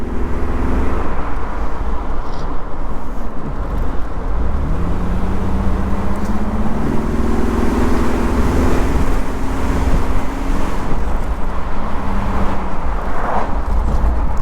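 A 2000 Ford Mustang V6 convertible with an automatic transmission driving along: a steady engine drone and road rumble, with pitch rising and shifting as the gears change, heard from inside the car without talking.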